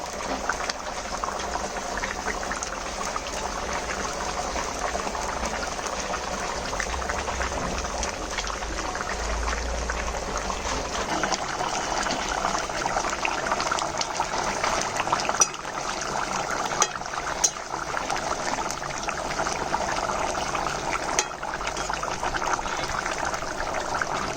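Rohu fish curry broth with cauliflower bubbling at a steady rolling boil in a cooking pot, heard close and continuous for the whole stretch, with faint liquid trickles and soft clinks over the constant simmer.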